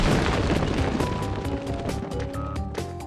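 A dark gem shatters in the PS2 game Spyro: A Hero's Tail, a loud booming crash followed by a dense, ringing burst of glittery chimes and sparkly tones fading over a few seconds.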